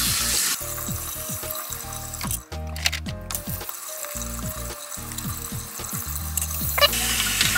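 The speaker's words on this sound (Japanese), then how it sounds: "水洗いします。" Tap water running at a bathroom sink while a dirty remote control circuit board is rinsed, a steady close splashing flow with a brief interruption partway through.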